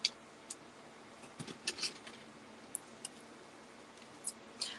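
Scissors snip through old zipper fabric for a slow-stitched pumpkin stem, giving faint, sparse clicks and crisp cuts spread irregularly across a quiet room.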